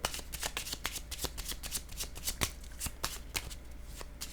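A deck of playing cards shuffled in a tarot-style reading, with a rapid series of crisp riffling flutters and snaps close by, repeating steadily with no one speaking.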